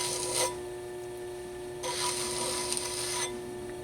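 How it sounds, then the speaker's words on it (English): A tool trimming excess clay from a pottery wheel head, two short rasping scrapes over a steady motor hum, close, no talk. "And then you can just trim off that excess from the wheel head."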